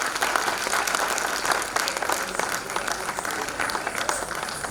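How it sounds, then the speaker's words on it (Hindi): Audience applause at an annual cultural dance event, a steady, dense wash of many hands clapping throughout, loud and continuous from start to end. "आप सभी एक बार और जोरदार तालियां बजाएं पल्लवी के लिए"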